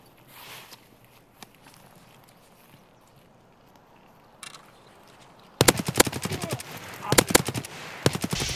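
Escape from Tarkov gunfire: a quiet stretch of soft footsteps and rustling gives way to loud, close bursts of rapid automatic fire, each volley cracking sharply in quick succession.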